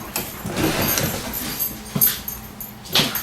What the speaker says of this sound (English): my dog just went crazy